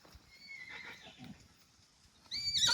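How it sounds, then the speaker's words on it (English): A young foal whinnying to get the attention of other horses, a thin drawn-out call rising into a loud sharp neigh at the end, fairly close, with no talk. "He has a completely different whinny when he tries to get the attention of the other horses."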